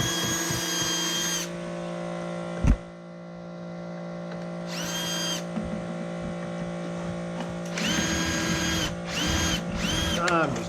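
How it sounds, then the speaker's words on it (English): A power tool grinds a screw head while an aluminium window is removed from behind brick, in short loud bursts separated by pauses over a steady mains hum, with a sharp knock between bursts. "I'm just grinding that head."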